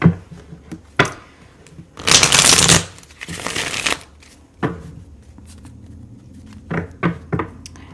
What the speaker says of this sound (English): I'm going to pull some additional cards here